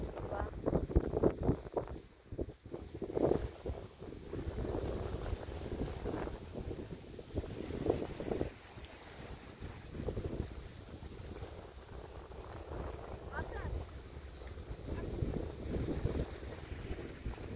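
Wind gusts across the microphone at a Bahrain seaside, a steady rumbling roar with surging bursts, faint water and boat-like sounds mixed in, no speech heard.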